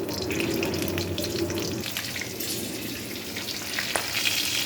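Green chillies fry in a hot pan for roti pachadi, a steady close sizzle with light stirring and crackle throughout.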